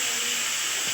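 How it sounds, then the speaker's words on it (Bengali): Chopped onion and tomato frying in a pan for a home-style palak paneer, giving a steady, soft, hissing sizzle that lasts the whole short moment with no voices. "এটা একটু ভেজে নেবে তো টমেটোর পেঁয়াজটা।"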